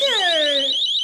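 A personal safety alarm shrieks loudly and continuously, a piercing warbling siren tone with sweeping pitch that holds steady for the full second, alone with no other sounds.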